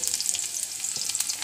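Pakoras fry in hot oil, a brief close hiss of bubbling with quick crackles and pops, no speech.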